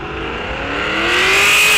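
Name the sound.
muscle cars revving at a drag race start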